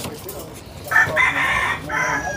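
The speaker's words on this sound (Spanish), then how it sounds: "What kind of rooster is this one?" Chickens and a good gray rooster at the Canton, Texas flea market trade days, with clucking and crowing bursts rising over busy outdoor crowd noise, fairly close and moderately loud.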